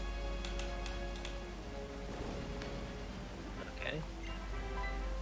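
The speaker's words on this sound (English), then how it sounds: "There's a storm. Yeah, this is okay, since this is just rain" Steady game rain loop from a storm in Pokemon White, a soft continuous hiss of falling rain behind a speaking voice, with music tones underneath.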